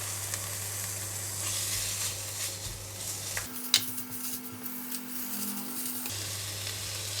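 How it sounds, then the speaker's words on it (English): Minced pork frying in hot oil in a pan, a steady close sizzle that runs throughout, with a brief stir and a clink partway through. "The oil is getting hot. I'm going to put in the meat."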